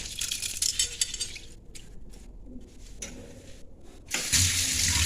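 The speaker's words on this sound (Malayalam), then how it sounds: "അപ്പോൾ അരി ഇവിടെ തേകി വെച്ചിട്ടുണ്ട് ഇനി ഇതൊന്ന് ഊറ്റിയെടുക്കട്ടെ" Water draining from washed rice in a home kitchen, heard as a steady broadband splash that thins and breaks into drips midway, then surges loud again near the end, close by with no talk.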